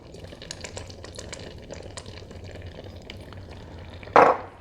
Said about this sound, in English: I'm gonna stir it again.